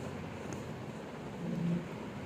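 Rain in the Gangs of India driving video game: a steady, dense wash of falling rain with a low rumble, heard at constant level with no voices.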